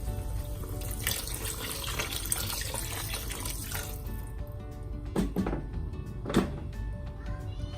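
Broth poured into a cooking pot of beef sinigang, a continuous splashing liquid stream that stops partway, followed by a few faint clinks and drips.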